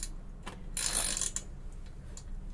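A Parkside hand ratchet clicks close by, with a short burst of fast pawl ticking followed by scattered single clicks and faint handling noise.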